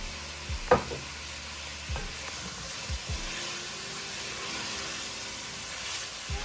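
Chopped zucchini goes into a hot soup pot with seasoned aromatics and is stirred, giving a soft sizzle under a few close scraping clatters of the spoon, then settling into a quiet, steady frying hiss.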